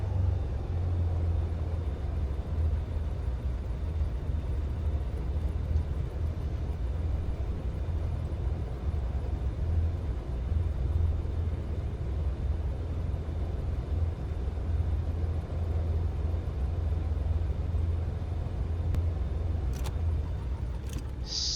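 A Milviz Cessna 310 twin-engine aircraft taxis in a flight simulator game, giving a steady, loud, low engine drone and rumble that holds evenly throughout, with a couple of faint clicks near the end and no talking.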